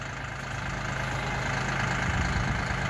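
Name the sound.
tractor engine running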